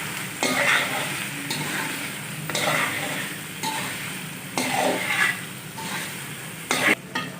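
Beef for bhuna gosht fries in a pan as a spoon scrapes and stirs it in repeated strokes about every second over a continuous sizzle.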